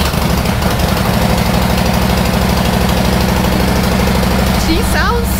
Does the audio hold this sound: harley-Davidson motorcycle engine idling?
yes